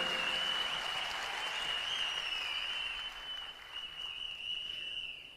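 Sustained applause from an audience at a business event, dense clapping that holds steady and then tapers slightly toward the end, with a faint tone ringing above it.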